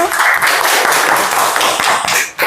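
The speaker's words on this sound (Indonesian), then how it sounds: "kita beri aplaus untuk kelompok 1" A classroom group gives a round of applause for group 1 after their presentation in an acids, bases and salts chemistry lesson, dense, steady clapping filling the room for a couple of seconds before briefly dipping.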